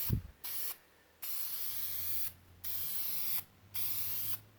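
A spray nozzle sprays primer paint onto a car body in four distinct bursts of steady hiss, each lasting about a second, with short silent gaps between them, heard close up.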